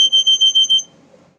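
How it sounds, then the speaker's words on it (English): Home smoke alarm with a dying battery, sounding a rapid series of about six loud, high-pitched electronic beeps close by, then stopping abruptly. "I think that's my smoke alarm telling me that its battery is dying."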